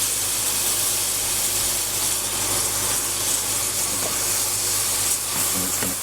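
Whole brown onion frying in a hot pressure cooker pan, a loud steady sizzling hiss that fills the stretch with no voices.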